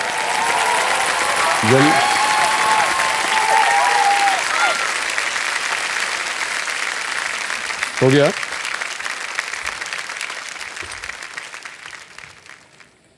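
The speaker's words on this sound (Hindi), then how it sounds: "और ताली बजाई जाती है उनके लिए।" Studio audience applause fills a TV quiz show set on Kaun Banega Crorepati: a sustained, even wash of clapping under brief speech that slowly thins and fades away at the end.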